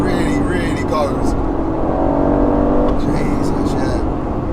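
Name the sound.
twin turbo V8 Aston Martin Vantage accelerating to redline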